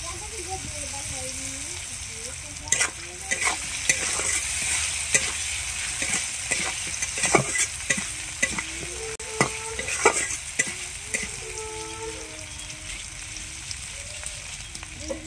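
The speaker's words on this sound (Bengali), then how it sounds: "ছোট ছোট করে কেটে রাখা ফুলকপি আর খানিকটা পেঁয়াজ কলি, এটা আমি ভালো করে ভেজে নিচ্ছি আলুর সাথে" Small-cut potatoes with turmeric and salt, cauliflower and onion stalks fry in a pan, giving a continuous close sizzle with frequent stirring clacks and scrapes while a person talks over it.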